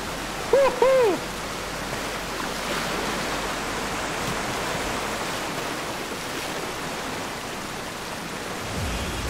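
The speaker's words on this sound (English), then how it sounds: "It feels really good because of the realistic water sound." Rushing whitewater in the VR kayaking game DownStream forms a steady, broad roar of river water throughout, with a couple of brief higher tones near the start.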